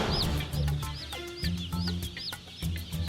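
Newly hatched chicks in a busy hatchery chirp close and loud, many overlapping high peeping calls in quick bursts over a low machine drone, with no talking.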